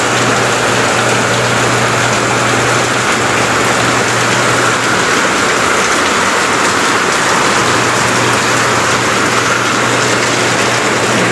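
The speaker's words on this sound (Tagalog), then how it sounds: "malakas na naman ang ulan" Heavy rain pours steadily with a dense, loud hiss, and a low engine-like hum drones underneath.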